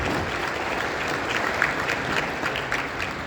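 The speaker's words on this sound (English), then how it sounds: "Big round of applause," A live conference audience gives a short burst of dense, even applause, a continuous wash of many hands at moderate level with no voices over it.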